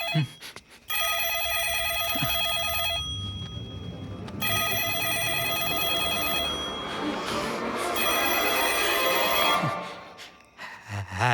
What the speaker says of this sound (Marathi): phone phone phone